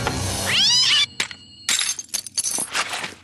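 A cartoon kitten gives a rising, drawn-out meow, followed by sharp clattering and crash-like hits with brief silent gaps between them.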